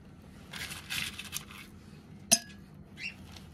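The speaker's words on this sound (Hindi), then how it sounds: "सबसे पहले हम गिलास में बर्फ़ डालेंगे" Ice cubes clatter into a drinking glass while a falooda is being assembled: a few soft scattered clinks, then one sharp, bright clink and a fainter knock, all close and quiet with no talk.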